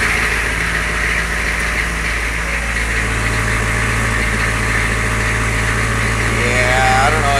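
A 6.2 engine idles steadily after a cold start with its high idle engaged, a loud, even, close rumble that runs throughout with a faint voice briefly underneath.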